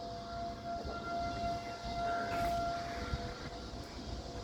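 Civil defense siren sounding outdoors during a tornado warning in Waukesha County, a steady sustained wail held throughout over constant rumbling wind and ambient noise, with no voices.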